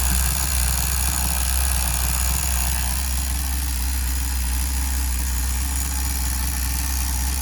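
A Tamiya TGS-R nitro RC car engine idling during run-in on the factory carb setting, still below temperature: a steady, continuous buzzing drone, loud and close throughout, with no talking.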